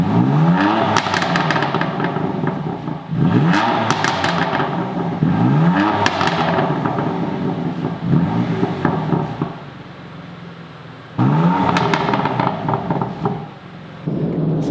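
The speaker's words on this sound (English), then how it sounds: "all in to max burbles that you can get" BMW F80 M3 with an EcuTeK tune revving hard, close and loud, its exhaust crackling and burbling between repeated sharp throttle blips, with a brief quieter lull before the revs climb again.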